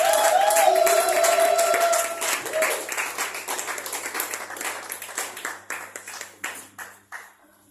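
A church congregation cheers and applauds as the pastor approaches, loud at first, then dying down into scattered, separate claps that stop near the end.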